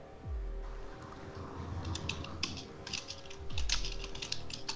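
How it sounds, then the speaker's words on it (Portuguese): Heavy, fast typing on a computer keyboard during a Rainbow Six Siege session: rapid clusters of sharp key clacks over a low background hum, close and fairly loud. "Começou a quebrar o teclado"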